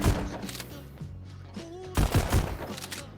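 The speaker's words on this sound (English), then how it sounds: "After the Fall would be mind-blowing with the amount of gunfire that's constantly going off." Rapid bursts of gunfire from the VR shooter game After the Fall, played on a Quest 2, crackle in dense clusters near and loud, with a brief tonal electronic whine between volleys.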